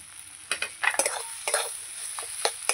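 A spatula stirs potato filling for aloo chop in a pan, bursts of scraping and shuffling strokes in quick irregular rhythm over a light sizzle, close and without speech.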